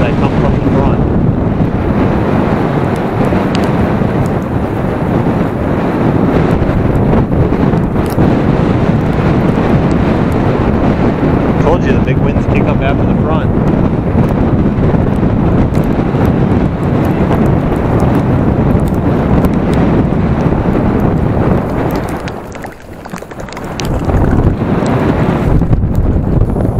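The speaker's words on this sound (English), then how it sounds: "Here's the big winds that come from the front." Strong post-storm wind on a lake roars and buffets the microphone in a loud, continuous rumble, easing briefly before surging again, with faint boat and water sounds mixed in.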